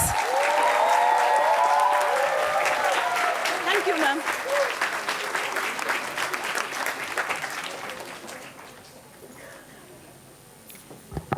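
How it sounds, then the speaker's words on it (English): A school audience claps for the principal, a full, sustained round that gradually thins and fades, with a speaker's voice briefly audible near the end. "So a big round of applause for ma'am for her guidance."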